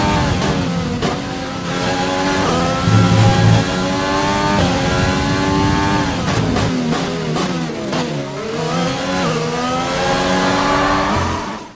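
Engine of an F1 car during a practice session in the F1 2020 game, loud and close, with high revs climbing and dropping through repeated gear shifts for the whole stretch and no talk over it.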